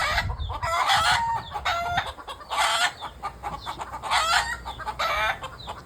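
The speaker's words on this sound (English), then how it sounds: "The roosters are something else. Oh my goodness, they're noisy." Several roosters crow in repeated bursts, fairly close and loud, while chickens cluck in the gaps between crows.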